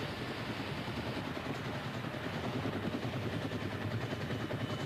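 A recovery helicopter hovers as astronauts are lifted aboard by net, its steady, loud rotor roar and engine drone filling the air continuously, with no voices heard.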